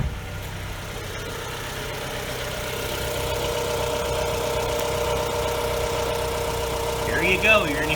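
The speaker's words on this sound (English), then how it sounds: "There you go, you're going to hear the intake." A 2018 Jeep Renegade with a performance intake idles with a steady, close mid-pitched hum and faint vibration, and someone talks briefly near the end.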